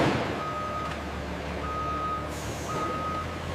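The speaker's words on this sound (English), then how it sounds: "Forklifts load trucks efficiently." A forklift at factory loading docks sounds repeated high, steady reversing beeps, three evenly spaced tones over a constant low industrial hum, moderately distant.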